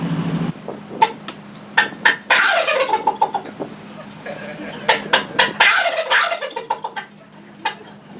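A person imitates a wild turkey's gobble with the voice: a run of sharp, rapid gobbling bursts repeated in two rattling sequences, close and loud over a low steady hum.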